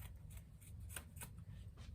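Quiet, crisp snips of scissors cutting through nylon lycra fabric, several short strokes in an uneven rhythm over a low background hum.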